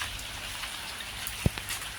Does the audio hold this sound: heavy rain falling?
yes